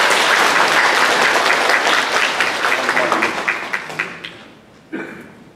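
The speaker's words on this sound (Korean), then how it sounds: "박수 하나 하겠습니다" A church congregation applauding a welcomed guest during a Korean worship service, loud, dense clapping that swells early and then thins into scattered claps before fading out, with one final clap.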